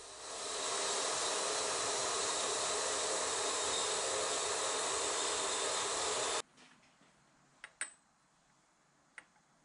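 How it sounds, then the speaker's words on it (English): All thread (threaded steel rod) being cut into lengths for hold-down clamps, a steady broadband saw or cutoff hiss lasting about six seconds, then stopping abruptly, followed by a few faint clicks and taps. "I picked up a piece of all thread that I'm just cutting into lengths to use for these hold down clamps."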